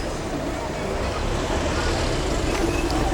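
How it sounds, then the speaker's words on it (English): A diesel truck on a street in China makes a close, heavy rumble, broad and steady with slight swelling toward the end, mixed with general road noise. "This is a diesel by the sound of it."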